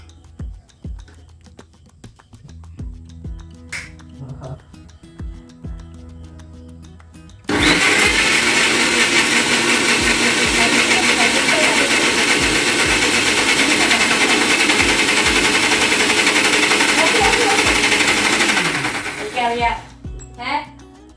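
A mixer grinder whirs loudly and steadily for around twelve seconds while blending muskmelon juice at home, starting abruptly and stopping near the end, with people talking before and after it runs.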